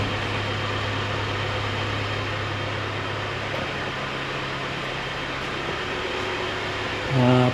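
A four-cylinder turbocharged car engine idling, a steady low hum with a constant drone, heard up close and unchanging, until a brief louder burst of noise near the end.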